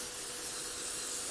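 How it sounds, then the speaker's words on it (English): Cooking spray hisses steadily from a can into a bundt pan, one continuous close spray lasting the whole moment without pause. "we're going to take some cooking spray. You want to make sure you spray very well the bottom and the sides of your bundt"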